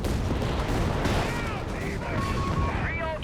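An artillery barrage in Company of Heroes 3, a North African desert battle, pounds with heavy booming blasts and crackling gunfire, dense and continuous with a few whistling tones.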